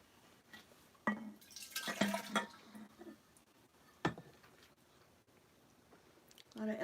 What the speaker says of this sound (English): You can watch me and I'll just dip in and pour it into here